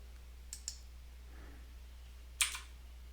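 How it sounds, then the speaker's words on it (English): A few quick keystrokes on a computer keyboard, a couple of light clicks followed by a sharper cluster of taps, faint and close in an otherwise quiet room with low steady hum. "You just type in xwin, and it'll get to the initial."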